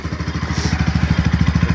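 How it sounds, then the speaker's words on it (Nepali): A motorcycle engine runs close by with a steady, rapid, evenly spaced thumping beat, loud and alone. "टक्क बाइकको साउन्ड आइहाल्छ राम्रै होइन।"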